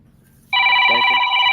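An office landline telephone rings loudly and close, a steady electronic trill starting abruptly after a quiet moment, with a brief murmur of a voice underneath.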